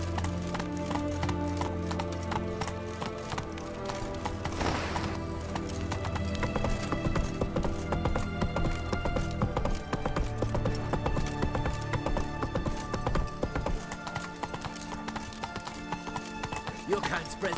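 Steady hoofbeats of a horse galloping in The Witcher 3 video game, running continuously under dense game music and ambience, with a brief whinny and some speech mixed in.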